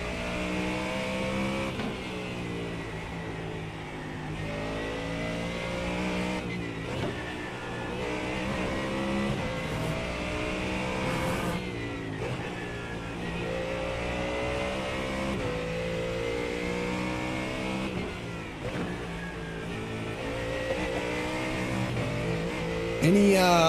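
A GT3 Mustang race car in iRacing at the Nurburgring drones and revs steadily and loudly throughout, with repeated gear changes and pitch sweeps, while someone talks over the engine.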